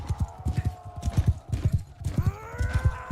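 Galloping horse hooves in the medieval battle game Bannerlord, a fast, steady clip-clop rhythm close by with battle noise and a horse whinny layered over it.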